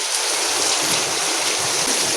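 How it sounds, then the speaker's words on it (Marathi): Heavy rain pouring steadily, a loud, dense rushing hiss with no break, close and all-enveloping. "जोरात पाऊस पडतोय, तुम्हाला आवाज पण येत असेल."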